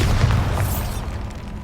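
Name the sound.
Bombarda spell explosion in video game Hogwarts Legacy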